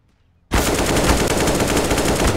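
Sustained automatic gunfire in the video game CS:GO, a dense rapid burst that starts abruptly and keeps going loud and close, with no voices.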